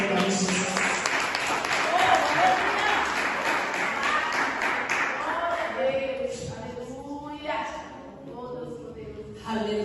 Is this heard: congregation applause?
yes